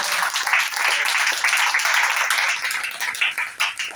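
A church congregation claps steadily and densely for several seconds, a continuous wash of applause filling the room with faint voices mixed in.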